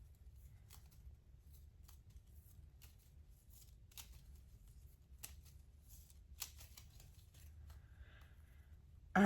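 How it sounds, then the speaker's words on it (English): Soft, rapid riffling and flicking of playing cards, a series of quiet crisp clicks over a low background hum, close by. "I'm going to have to shuffle these."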